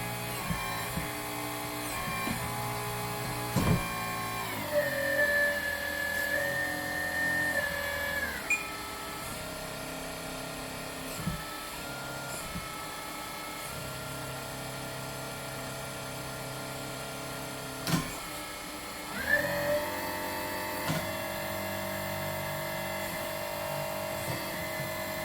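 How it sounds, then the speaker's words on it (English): A LESU Kobelco SK500 RC excavator's hydraulic pump whines steadily up close, its pitch rising and falling as the speed changes, with small mechanical clicks and clunks along the way. "The speed of the motion depends on how fast I have the pump going."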